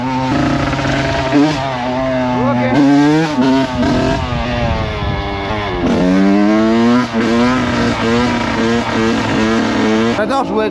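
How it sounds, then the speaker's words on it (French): Kawasaki KX 85 dirt bike engine revs hard and close, its pitch sweeping up and down repeatedly through gear changes, loud and continuous for the whole stretch with talk mixed in. "J'adore jouer avec le 85, même si c'est la moto qui t'envoie par terre le plus rapidement."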